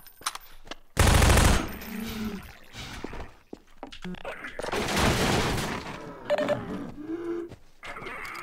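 SMG fire in Half-Life 2 in Ravenholm: two loud short bursts about four seconds apart, with a dense crackle of shots and echoing tails between quieter game sounds.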